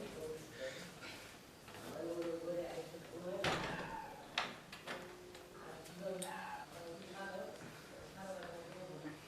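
People talk quietly while a door swings and shuts with a single sharp knock, followed by a softer clack.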